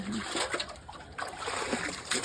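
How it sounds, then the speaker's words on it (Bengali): Water is drawn from a household well in bursts of splashing and trickling, a few close pours and sloshes in quick succession, with faint voices in the background. "দেখো দাঁড়াও, এই কুমা থেকে জল তুলছে।"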